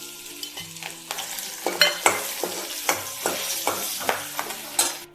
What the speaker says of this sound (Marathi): त्याला चांगलं हलवून घ्यायचं आहे।